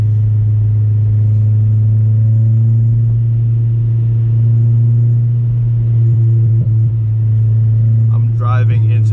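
Slammed Honda Civic driving over a rough, bad road, a loud constant low engine and road rumble that persists throughout, with a voice speaking near the end.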